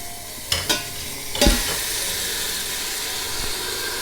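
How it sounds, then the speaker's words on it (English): Frozen ground beef bulgogi sizzles loudly and steadily in a hot Instant Pot, with a few sharp stirring clatters near the start, then a continuous close hiss of browning meat. "That's the sound that you want, and you let it sizzle and brown, and don't move it."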